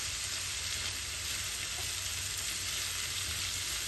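Slices of bitter gourd sizzle steadily in a hot pan while being stirred, a dense, even frying hiss running the whole time with no talk.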